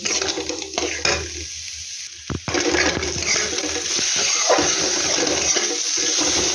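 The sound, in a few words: stirring egg curry with potatoes and spices in a pan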